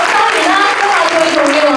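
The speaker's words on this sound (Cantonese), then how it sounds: "我哋俾呢啲掌聲，多謝梁生" Audience applause at a Hong Kong tribute event honouring a Cantonese opera artist's stage work: a steady, dense wash of clapping throughout with a voice talking over it.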